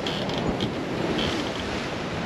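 Steady rush of wind and breaking waves aboard a sailboat in a 20-knot beam wind on a passage to Antigua, with loud continuous wind noise across the microphone and no talk.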